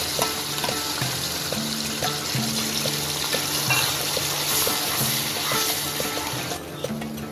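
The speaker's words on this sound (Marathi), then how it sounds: "तेल गरम झालेलं आहे, त्यामध्ये आता हे वाटण आपण टाकणार आहोत।" Ground masala paste sizzles and spits in hot oil for a shev bhaji curry. The frying stays steady and close for the whole stretch, with a faint tonal background running underneath.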